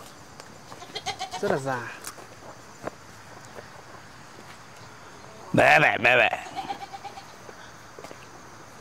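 Goats bleat in two loud bursts, around the second and again near the sixth second, while being led into a house in a rural Vietnamese setting, with someone talking over them.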